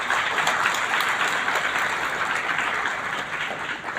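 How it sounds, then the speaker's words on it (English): An audience at a school's Silver Jubilee afternoon function applauds, a steady, fairly loud wash of many hands clapping for a few seconds without any speech. "A very big round of applause is what I want to hear."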